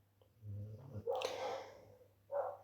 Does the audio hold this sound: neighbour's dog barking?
yes